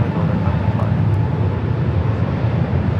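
A Frontier Airbus A321neo airliner at Los Angeles International Airport roars with a loud, steady broadband jet rumble that holds constant throughout.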